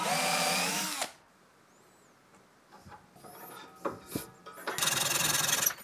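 A power drill bores threaded-rod holes into the wooden table of a homemade 13-inch jointer: a loud whining burst, a pause filled with small tool handling and scraping, then a second loud drilling burst.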